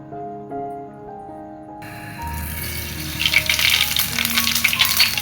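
Cumin and mustard seeds crackle in hot oil for the tempering of a Konkan wedding-style kurma, the sizzle swelling into a dense, steady popping after a brief soft musical opening.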